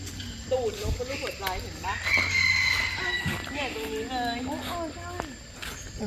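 Chickens at Ubon zoo give crowing and clucking calls mixed with other bird and frog-like sounds, fairly faint and heard under people chatting nearby.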